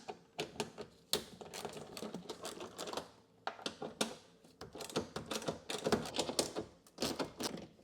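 Bolts being worked out of a Corvette C5 window regulator, a close series of sharp metallic clicks and ratcheting bursts in irregular clusters with brief pauses, no talking.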